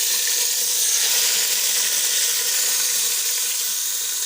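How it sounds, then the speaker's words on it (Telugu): Hot oil hissing into a pot of Hyderabadi biryani, a steady, bright sizzle that holds evenly without pause and with no talking over it. "ఇప్పుడు కొంచెం మనము వేడి ఆయిల్ వేసుకోవాలి."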